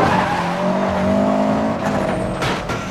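Subaru Impreza driven in free roam in the video game Need for Speed Most Wanted, its engine droning steadily and loudly with layered harmonics, rising slightly in pitch, with brief tire hiss near the end and no talking.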